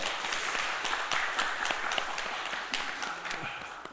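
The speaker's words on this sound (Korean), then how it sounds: "우리 같이 박수로 환영하겠습니다." A church congregation at a Sunday worship service applauds to welcome a visitor, a steady dense patter of many hands filling the room throughout, with faint voices beneath.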